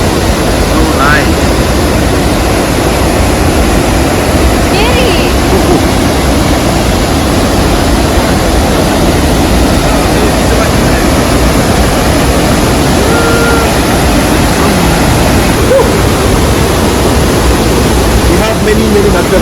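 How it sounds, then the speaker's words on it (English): Waterfall at Dibreka, Guinea, heard as a steady, loud broadband roar of falling water that fills the whole stretch, with people talking briefly over it. "Look at the waterfall."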